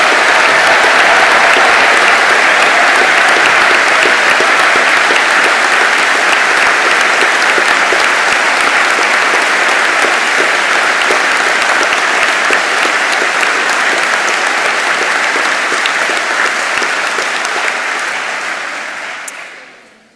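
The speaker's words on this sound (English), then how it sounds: "could I ask for one massive round of applause for all the award winners and degree holders today?" Long, loud, continuous applause from a large graduation crowd honoring award winners and degree holders at a biosciences ceremony, sustained clapping for nearly twenty seconds before fading out, no talking.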